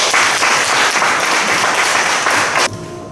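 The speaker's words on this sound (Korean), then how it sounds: "여러분, 뜨거운 박수를 한 번 더 맞아주시기 바랍니다" Loud, dense applause from an audience at a poetry recitation concert fills the room, then stops abruptly and leaves only a quiet hum.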